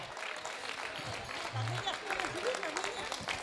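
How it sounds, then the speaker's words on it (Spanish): Festival crowd applause for Vanessa at the Fiesta del Sobao y la Quesada in La Vega de Pas, steady clapping with voices mixed in throughout. "Vamos allá, un aplauso para Vanessa, si se anima."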